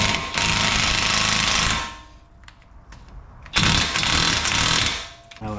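Power tool tightening a strut on a Dodge Dart during replacement: loud, rattling impact bursts for about two seconds, a brief quieter gap with small clicks, then another hard hammering burst, close up with no talk.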